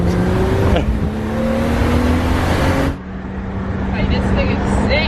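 A BMW Z4 roadster drives with its top down, its engine giving a steady drone that rises in pitch, with wind rushing past and people talking over it from inside the car.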